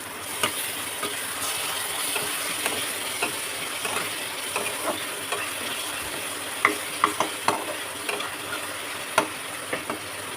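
Onion paste and ginger-garlic paste frying in a pan for a fish curry, with a steady low sizzle under repeated rhythmic spatula scrapes and taps that grow more frequent toward the end, close and without speech.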